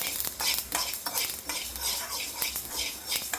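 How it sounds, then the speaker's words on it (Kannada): Mustard seeds splutter and crackle in a hot pan while roasting, with a continuous dense sizzle and occasional scraping of a spoon, close and loud, with no talking. "ಈಗ ಚಟಪಟ ಅಂದವು ಗ್ಯಾಸ್ ಬಂದ್ ಮಾಡ್ಕೋತೀನಿ."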